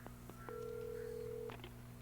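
A few short telephone keypad beeps in the video game Alan Wake, followed by a steady electronic tone, with faint clicks, heard alone against a low synthetic hum.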